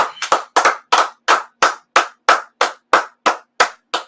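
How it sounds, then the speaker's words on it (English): About a dozen sharp hand claps from a group gathered for an Israelite School of Universal Practical Knowledge class in Harlem, New York, landing in a steady, evenly spaced rhythm, loud and close with no talk over them. "let's clap it up."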